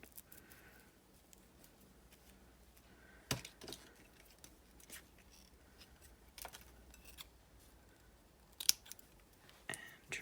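Scissors trim ribbon ends for a stamped floral card, several quick, faint snips scattered irregularly against a quiet background.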